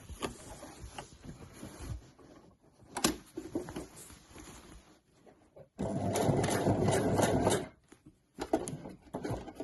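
A home sewing machine back-stitches over seams on the handles of a weekender bag, running in one steady burst of about two seconds after quieter handling noises and short clicks.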